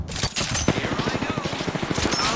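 Rapid automatic gunfire from the video game Meltdown, a fast steady burst of repeated shots lasting a couple of seconds, loud and close.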